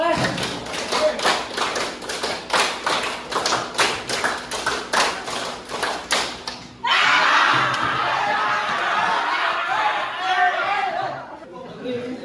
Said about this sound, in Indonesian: Tepuk lima kali.